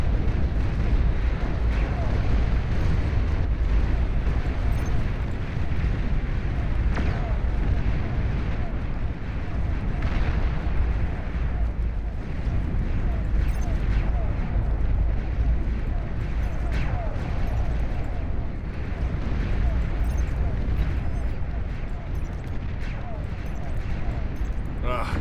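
Continuous dense bombardment of explosions and artillery-like booms in the strategy video game Beyond All Reason, a loud sustained rumble of overlapping blasts throughout.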